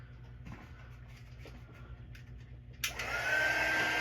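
A heat gun switches on near the end, blasting a loud steady airy roar with a rising whine as it shrinks 1 inch heat shrink tube, after a few seconds of quiet room noise and light handling clicks.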